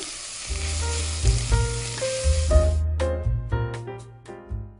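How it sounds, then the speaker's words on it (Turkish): Chopped vegetables and carrot sauté in a pot as the base for minestrone soup, a loud bright sizzle with stirring knocks, steady then easing as the pan crackles on its own. "Şimdi bu yavaş yavaş kavrulurken"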